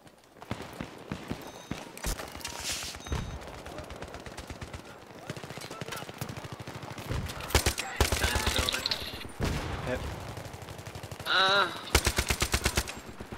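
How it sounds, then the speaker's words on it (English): Gunfire from a rooftop shooter in Battlefield 3 during a team deathmatch, with repeated bursts of automatic rifle fire and single cracks coming in clusters, some loud and near, others quieter, spread across the whole stretch. "I'm getting shot by a rooftopper again."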